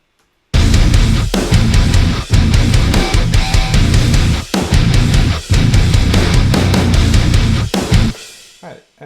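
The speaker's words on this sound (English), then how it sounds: "that's how I mixed the guitar tone coming from a Boss DS-1. So altogether that mix sounds like this." Dense, aggressive metal mix built around a guitar driven through a Boss DS-1 distortion pedal, loud and continuous with punchy rhythmic accents and brief gaps, ending in a fading ring-out.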